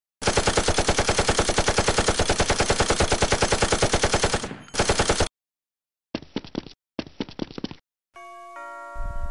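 Rapid automatic gunfire bursts in an action film, a long loud rattling stream followed by shorter bursts separated by silence, then a ringing electronic tone at the end.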